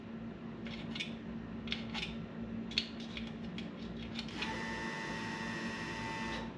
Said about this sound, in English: There, you heard the fuel pump again.